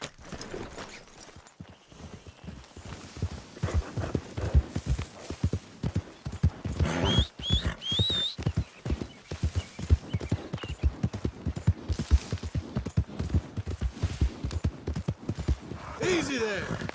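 Horse hooves clip-clop steadily and close by in Red Dead Redemption 2, with a brief whinny partway through and character voices speaking over the hoofbeats.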